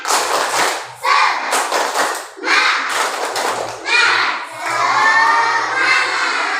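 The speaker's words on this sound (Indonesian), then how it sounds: "Sekali lagi, tepuk semangat" Classroom of children doing a rhythmic spirit clap together, with bursts of clapping and shouted voices as a group, loud and close, several quick rounds.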